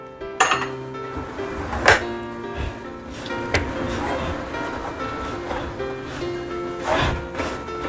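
Grated coconut being stirred into a sticky date mixture in a pan for khajur pak, with scraping and clinking of utensil against the pan in irregular strokes, under intermittent talk.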